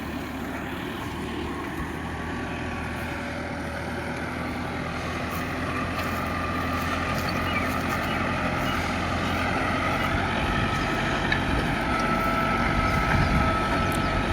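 A tractor dragging a heavy harrow across a field gives a continuous engine drone and rumble, steady and fairly close, gradually swelling a little louder with some wind noise and no talk.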